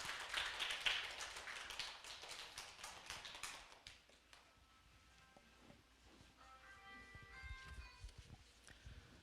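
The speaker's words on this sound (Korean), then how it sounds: "박수 한번 부탁드리겠습니다." Scattered applause from a small audience welcoming a lecturer, close sharp claps that fade after a few seconds, leaving sparse taps and faint room noise.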